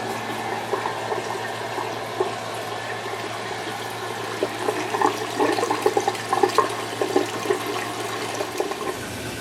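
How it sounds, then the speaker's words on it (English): Water spills over a bulkhead from a fish fry rack and drains to a floor drain, a continuous trickling flow with gurgling splashes growing busier toward the end, close and moderately loud. "As the water rises over the bulkhead, it drains out of the system to the drain in the floor"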